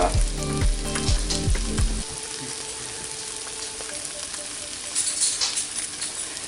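An open-face sandwich sizzles and fries steadily in a pan, loud at first with some clattering, then settling into a softer, even crackle that swells again near the end.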